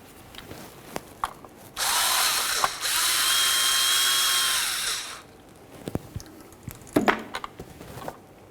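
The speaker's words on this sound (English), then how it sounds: "We'll use an 8mm to take down this filter." A power tool spins 8mm socket bolts out of the transmission filter on a 1998-2011 Ford Ranger: a couple of sustained whirring bursts lasting a few seconds, close and loud, followed by scattered metallic clicks and taps.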